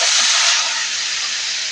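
Hot water poured into a pot of seared beef tenderloin over high heat sets off a loud, steady steam hiss and sizzle that eases slightly after the first half second, with no talking.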